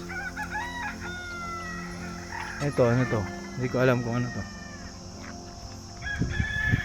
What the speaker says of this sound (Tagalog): Yun, mga manok.